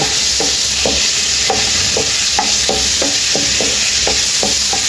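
Chicken frying in a karahi for restaurant-style chicken karahi, a steady loud sizzle with a regular rhythm of stirring scrapes close up, no talking.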